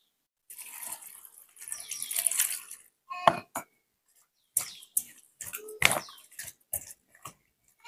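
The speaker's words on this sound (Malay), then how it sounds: "masukkan air kapur sikit ya" Lime water is poured and splashed over freshly cut cucumbers for acar timun, with intermittent watery pours, trickles and sharp splashy bursts separated by short pauses, fairly close and moderately quiet.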